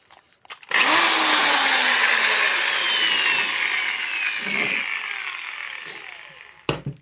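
An electric drill, repaired at home, kicks on abruptly and whines loud and close for about six seconds, its pitch sliding gradually lower, before cutting off with a final clack.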